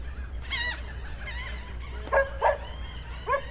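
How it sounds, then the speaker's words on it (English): A dog on the Ocean City, Maryland boardwalk barks several times in short, moderately near bursts over a low steady background hum, with a pause before a final bark. "What's he barking about?"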